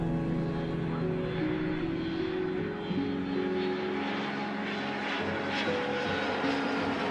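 A steady, continuous engine roar of an airplane taking off in the airport management game Mini Airways, droning evenly throughout with shifting tonal hums and no talk.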